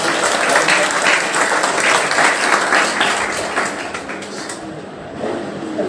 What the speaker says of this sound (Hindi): इनका जोरदार तालियों से